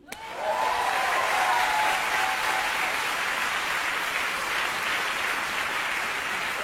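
An audience applauds after a medley from the musical Air at a French talent showcase, a dense, sustained wash of clapping that swells quickly and holds strong to the end.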